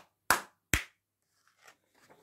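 A child claps twice, two sharp, close hand claps spaced about half a second apart, followed by faint rustling and soft background sounds.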